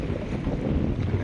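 Strong wind roars across a fishing boat at sea in heavy swells while shrimp nets are being hauled, a steady, close, blustery rumble like wind buffeting the microphone, with no voices.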